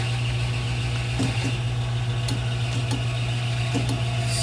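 A metal lathe turning the shank of a half-inch bolt at about 500 RPM, giving a steady motor hum with a strong low drone and faint light ticks, constant and close.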